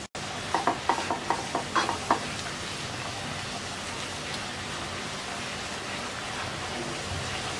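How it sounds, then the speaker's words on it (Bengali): Ground chili, turmeric and coriander powders fry in hot oil for a rui fish curry, giving a loud, steady close sizzle like rain, with a few quick scraping stirs of a spoon near the start. "এবার মশলাটাকে ভালো করে কষিয়ে নেব।"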